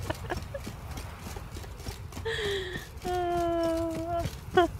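Hooves clip-clop on a road in Witcher 3 as a horse trots, a steady patter of soft hits, with a horse's whinny rising midway and a voice talking over it.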